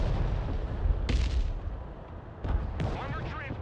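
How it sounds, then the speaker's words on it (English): Artillery fire in the war game Broken Arrow: several heavy booms and blasts, some near and some distant, over a dense rumbling battle background, with radio-style voices talking at times. "thanks to artillery"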